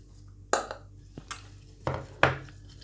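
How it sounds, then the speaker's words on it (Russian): Mango puree mixed with corn starch and sugar, stirred in a bowl, giving a few sharp utensil clinks and scrapes against the dish, spaced irregularly and close up with no talk. "Тщательно перемешаем, чтобы не было комочков."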